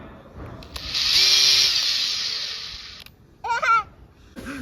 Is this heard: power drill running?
yes